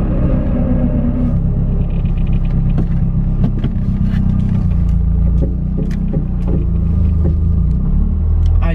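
A Mazdaspeed 3 car drives and makes a U-turn, heard from inside as a loud, steady low engine rumble whose pitch drops and shifts as the car slows and turns.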